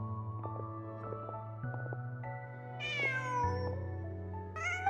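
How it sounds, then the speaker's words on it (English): A cat meows in Genshin Impact amid game music, a rising plaintive meow near the end standing out over sustained low tones and a soft melodic background. "Just a cat."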